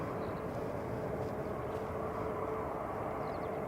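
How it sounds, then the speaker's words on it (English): A Singapore airliner departs down the runway, its jet engines producing a broad, steady, far-carrying roar that holds evenly throughout with no talk over it. "we're going to see him depart"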